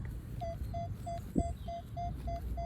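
A metal detector sounds a regular, evenly spaced beeping tone over a field, a series of short, clear pips at a steady pulse above a soft background rumble, with one dull knock partway through.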